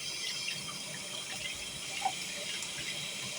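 Water runs steadily from a tap into a sink, a continuous mid-level hiss with faint splashes and one brief louder drip, no voices.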